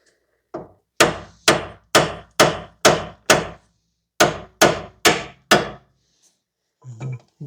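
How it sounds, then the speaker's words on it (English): Ringing hammer blows strike a tie rod stud on a 2009-2019 Toyota Corolla during front wheel bearing replacement, in two quick bursts, six evenly spaced hits and then four more, loud and close, with brief quiet between. "Just a few light whacks, it should come out."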